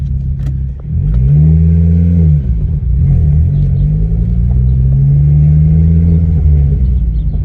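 Ford Focus ST225 engine held at a steady, loud low drone while driving, with a brief dip and surge in revs early on before settling into a continuous rumble.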